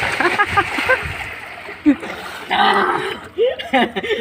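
Water splashes and sloshes in a swimming pool in short bursts as someone swims nearby. A person talks over the splashing throughout.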